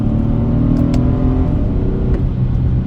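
A 2009 Infiniti G37 automatic revs hard under full throttle as a paddle-shift downshift from fourth to third is clicked, giving a loud, close, sustained engine roar with a slight dip in pitch partway through.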